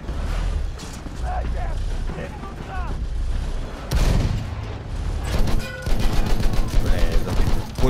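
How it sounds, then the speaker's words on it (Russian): Battlefield 1 combat on the Brusilov Offensive map with an armoured train nearby. Sustained rattling gunfire and heavy booms grow denser and louder toward the end, with talk running underneath. "Пулемет."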